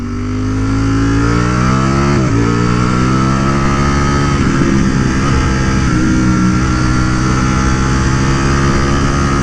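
A Ducati Streetfighter V4S engine roars steadily and loud while riding on canyon roads, pitch climbing through revs with a brief dip as a gear changes, then pulling hard again with no talk over it.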